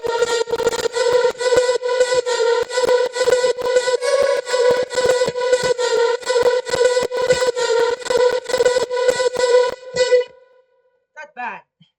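Chopped vocal samples fire in a rapid, evenly pulsed stutter for a dance track drop, bright and loud, then cut out near the end before a few faint trailing blips.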